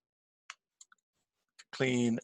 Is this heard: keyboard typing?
yes